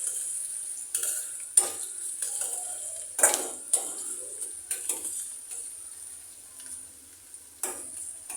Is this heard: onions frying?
yes